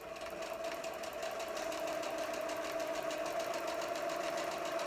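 Sewing machine stitching a Halloween quilt block, a steady continuous mechanical whir with rapid rhythmic needle pulses, close and fairly loud throughout with no talking.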